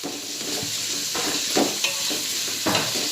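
Onions sizzle steadily in hot oil for birista while a utensil stirs them now and then, making soft scraping clicks over the continuous close frying hiss.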